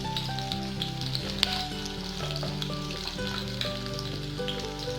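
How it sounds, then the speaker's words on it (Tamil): Onion and ginger sautéing with a little salt in a pan for a green peas kurma, a steady close sizzle running throughout beneath tonal background music. "அதுக்கப்புறம் வெங்காயம், எடுத்து வச்சுருக்க இஞ்சி, இது 3ஐயும் போட்டு நல்லா உப்பு கொஞ்சம் போட்டு வதக்கிக்கலாம்."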